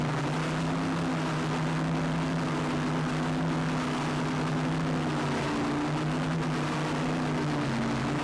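A helicopter filming a powerboat race holds a steady droning hum with a strong constant tone, loud and continuous with no gaps, and no voices over it.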